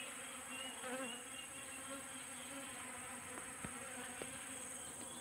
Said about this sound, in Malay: lebah datang